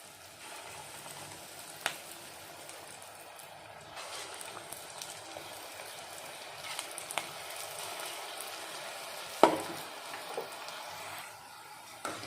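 Paniyaram batter frying in hot oil in a kadai, a steady faint sizzle and bubbling throughout, with a few soft clicks and taps from a utensil at scattered moments, no talking.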